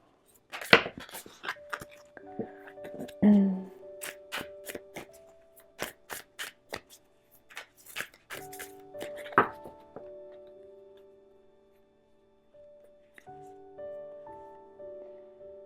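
Oracle cards shuffled by hand: a run of quick riffling flutters and light taps, close and fairly loud, with soft pauses and a tonal chime in the background, no speech.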